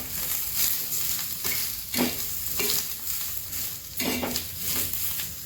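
Vegetables for a Bhogichi bhaji roast in a pan with a continuous sizzle, broken by periodic stirring scrapes and soft clatters of a spoon against the pan.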